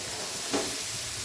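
Kambili lime pickle sizzles steadily in a pan, a dense close hiss with one brief soft stir near the middle and no voices.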